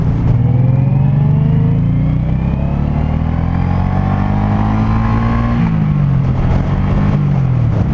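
A 2019 Suzuki M109R motorcycle rumbles loud and close while being ridden. The deep engine note climbs steadily as it accelerates, drops briefly at a gear change and then pulls up again.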